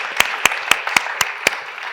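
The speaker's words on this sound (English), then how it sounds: "Please give a round of applause." A handful of sharp, evenly spaced claps, about four per second, from a small audience thanking conference panelists at an automotive-sector business panel; fairly close and moderately loud, with no talking over them.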